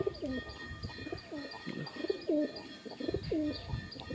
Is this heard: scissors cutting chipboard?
no